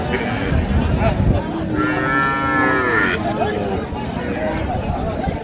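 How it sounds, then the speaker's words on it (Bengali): A cow with her calf at a busy cattle market gives one clear, drawn-out moo amid constant crowd chatter and background voices. "গাভী বাছুর আমরা দেখছিলাম এখানে।"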